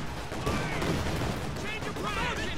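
Grenade explosions and rattling gunfire in a video game form a dense, continuous barrage of sharp bursts and booms, with a voice talking over it.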